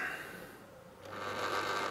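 A small electric model train motor, running on DC, whirs with a steady, slightly grinding hum that grows louder and rougher partway through, close by and with no voices.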